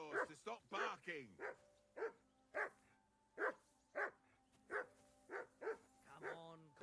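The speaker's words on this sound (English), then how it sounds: "Henry, whistle at that mutt of yours to stop barking." A dog in the video game Kingdom Come: Deliverance 2 barks repeatedly in short, evenly spaced yelps over about seven seconds, fairly close, with voices talking around it.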